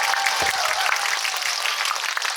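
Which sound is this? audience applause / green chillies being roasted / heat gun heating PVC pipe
audience applause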